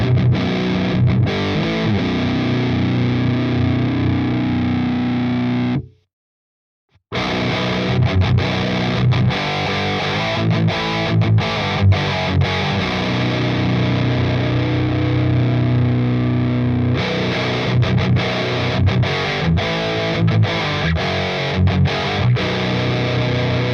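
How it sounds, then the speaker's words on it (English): Electric guitar played through a stock DS1 distortion pedal into an Audiority Solidus VS8100 Marshall Valvestate amp plugin, loud saturated riffing with a short break of silence before the chugging resumes, no voice. "I wanna hear a DS1 stock first."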